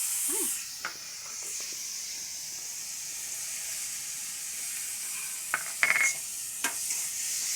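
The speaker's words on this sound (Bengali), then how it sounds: "এটা দিয়ে একটুখানি ভালো করে নেড়ে চেড়ে নিই" Grated apple, paneer and spices sizzle in a hot pan with a steady frying hiss, broken by a few scraping knocks of a spoon stirring the mixture.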